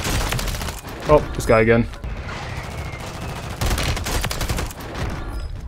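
Rapid bursts of video game gunfire, dense automatic volleys that come in two clusters, loud and close, with someone briefly talking between them.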